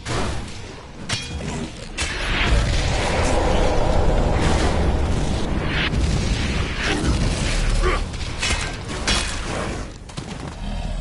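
Cannon fire in the Elex II video game, heavy booming blasts and explosive bursts rolling continuously over a dense battle din for the whole stretch, loud and close with no speech.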